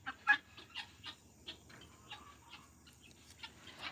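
Chickens cluck and chirp in short bursts close by, scattered irregularly over a quiet background.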